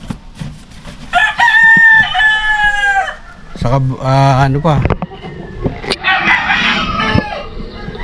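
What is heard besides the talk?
roosters crowing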